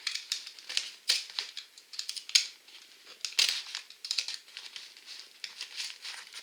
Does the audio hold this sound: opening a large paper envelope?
yes